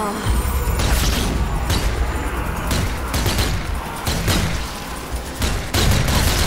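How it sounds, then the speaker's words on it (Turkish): Gunfire in the zombie shooter Zombie Army 4: Dead War, with loud, dense volleys of shots and booming impacts in repeated bursts over a constant rumble of battle. "şunlar neye ateş ediyor"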